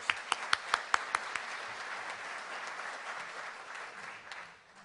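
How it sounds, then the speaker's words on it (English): A few sharp separate claps open, then a quieter round of audience applause for guests at a Rotary club meeting follows and fades out near the end. "Let's give them all a warm round of applause"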